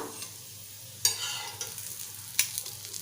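Potato slices coated in rava fry in hot oil in a pan, Malvani style, giving a steady close hiss with two sharp utensil clinks along the way.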